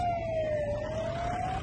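An ambulance siren wails steadily in a street, holding a continuous high tone over low traffic rumble throughout, moderately loud and unbroken.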